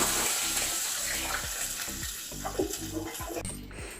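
Mustard seeds sizzling and crackling in hot oil while tempering a Kerala buttermilk curry (moru curry), close frying hiss with scraping stir strokes repeating in a loose rhythm, no talk.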